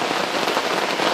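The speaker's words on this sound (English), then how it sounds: "it's just raining like a sumbitch." Heavy rain pours during Ohio gun-season deer hunting, a dense, steady patter and hiss close around, loud and unbroken with no voices.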